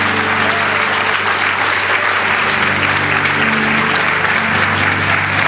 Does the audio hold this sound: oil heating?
no